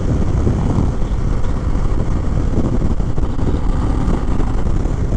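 A 2021 Harley-Davidson Fat Bob V-twin lugs along in fourth gear of its six-speed box at highway pace, a dense, continuous low engine drone mixed with wind rush, loud and unbroken, no talking.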